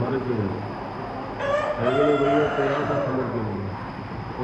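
A rooster crows once at moderate distance on a chicken farm, a long drawn-out call over steady background noise and faint voices.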